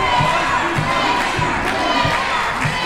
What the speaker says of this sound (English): Do you hear this crowd getting behind G Raver now?